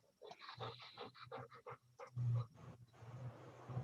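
A dog pants close by in quick, rhythmic bursts of breath, with a few heavier huffs partway through and no talking.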